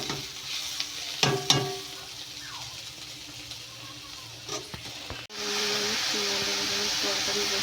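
A bean, potato and eggplant curry with tomato and coriander cooks in a pan. Quiet stirring and faint sounds come first with a brief voice, then a sudden loud, steady hiss and sizzle takes over.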